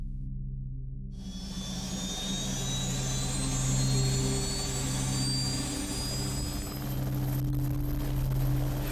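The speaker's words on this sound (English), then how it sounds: "the helicopter plays a vital role" A steady engine drone with a rising whine builds in after a second, a police helicopter flying fairly close over a railway line, continuous and fairly loud.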